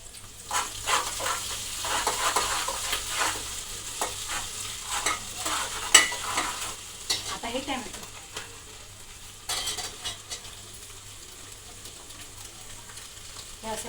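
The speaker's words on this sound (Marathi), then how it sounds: "अद्रकची जी पेस्ट असते आपण चांगला भाजून घेतलं ना तर ते थोडं थोडंसं छान लागतं" Ginger paste frying in hot oil for a peas pulao or veg biryani, a continuous close sizzle broken by repeated scraping strokes of a spoon stirring the pan.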